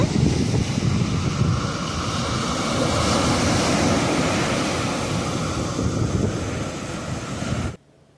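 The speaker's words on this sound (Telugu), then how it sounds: "ఒకసారి న్యాచురల్ వేవ్ కూడా వినండి సౌండ్ ఎంత బాగుందో" Ocean waves breaking on ECR beach near Chennai, a steady loud wash of surf with wind rumble across the microphone, continuing without a break until it cuts off just before the end.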